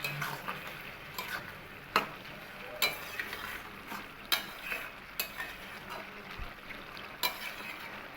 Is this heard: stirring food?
yes